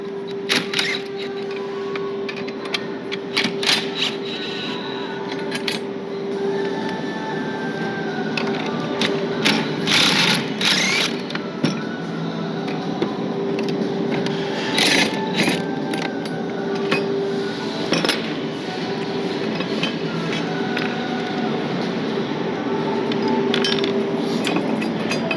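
A ratchet and 17mm socket work M10 bolts loose on the legs of a 2025 Ford Transit swivel seat, making repeated close clicks and metallic taps over a steady background hum.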